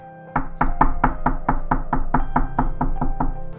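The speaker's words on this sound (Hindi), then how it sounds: "उनके दरवाजे पे जोरों की ठक-ठक हुई।" Loud, rapid knocking on a door, about a dozen evenly spaced hard raps in a steady rhythm, heard on their own.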